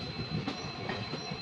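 A train pulling into Abohar Junction station, heard from inside as a steady rumbling rattle with a faint high whine and soft wheel clatter, continuous and fairly close, no talk.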